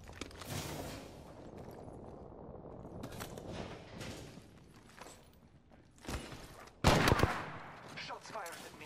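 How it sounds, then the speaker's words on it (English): Gunfire in the Apex Legends battle royale game, a scattered series of sharp shots over several seconds, with a louder, closer burst near the end. "Shots fired at me."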